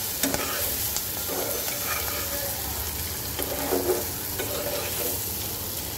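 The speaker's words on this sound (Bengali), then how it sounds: "এইবার এটাকে সুন্দর করে কষাবো।" Hilsa fish with green chillies, salt, turmeric and coriander powder being sautéed and stirred in a pan, a steady close sizzle broken by repeated scraping stirs.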